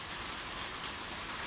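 Rain falls in a steady, even wash of noise with no break, moderately soft and alone without any voices.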